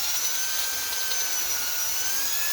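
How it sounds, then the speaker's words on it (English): A drill boring a hole through an acrylic instrument panel for a Cessna 140, a steady high whine with a sustained tonal pitch, close and continuous without pause. "the acrylic will melt as the drill is heating up the plastic"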